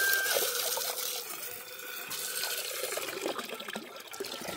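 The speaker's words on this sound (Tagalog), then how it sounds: "So ganito yung supply natin ng tubig dito mga kap para sa ating mga alaga." Water runs steadily from a farm water supply for goats, a continuous faucet-like flow and splash heard up close with no talking.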